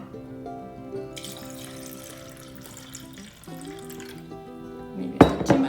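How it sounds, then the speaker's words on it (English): Water poured into a jar of water kefir grains, a gentle trickling splash with a ringing, rising tone as the vessel fills, quiet overall before a brief louder splash near the end. "Okay, I'm gonna pour in a little bit more here."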